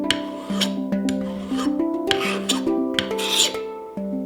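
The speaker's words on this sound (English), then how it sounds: "Time to file the ring and make a flat spot to solder the bezel on." A file rasps a silver ring flat in a miter jig, making a steady series of close, even strokes at roughly two per second, each a bright scraping pass, with no voices.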